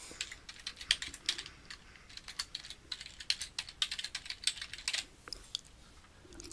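Rapid keystrokes on a computer keyboard enter an email recipient, an irregular run of crisp close clicks with brief pauses, quiet and alone.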